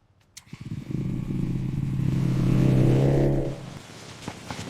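An XR motorcycle rides over a rough road, its mid-range engine rumble swelling and holding steady at close range before easing off, with no talk.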